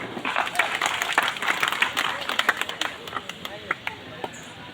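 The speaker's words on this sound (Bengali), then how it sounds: "সকলের জন্যই সকলে আমরা একটা করতালি দিচ্ছি" Audience clapping for International Workers' Day at a discussion meeting, a dense round of applause from a seated crowd that thins into scattered claps near the end.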